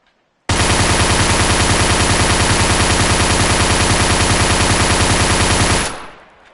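A Bison submachine gun, the submachine gun version of an AK with a high-capacity drum magazine, fires one loud unbroken burst in a VR video game, rapid even shots for about five seconds before cutting off with a short fading tail.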